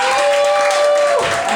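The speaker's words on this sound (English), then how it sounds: "Give them a round of applause, ladies and gentlemen." A cabaret audience at Reverend Angel Dust's Tabernacle of Hedonism show gives a short, loud burst of applause over a sustained steady tone that drops away near the end.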